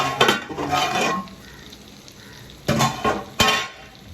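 Tomatoes softening in a covered pan on low flame for a Kerala-style chicken roast, giving a soft steady sizzle broken by a few close clanks and stirring scrapes of a utensil against the pan.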